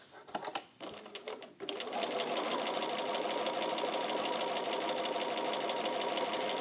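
A sewing machine stitches along a line on a layered quilt, running in a steady, fast mechanical whir after a few brief stop-start bursts at the beginning, close and fairly quiet with no talking.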